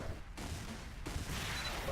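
Rapid mortar fire pounds through a Xonotic deathmatch, a dense, continuous barrage of low explosive thuds and bursts layered with game noise, loud and unbroken for the whole stretch.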